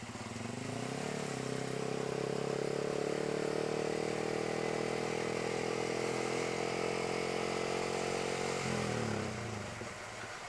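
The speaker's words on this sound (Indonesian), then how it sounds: "Pergi perjalanan jauh bawa motor pelan pula gitu" A motorcycle rides slowly along a bumpy, wavy road during a long trip, its engine a steady close drone that holds for about eight seconds before easing off near the end.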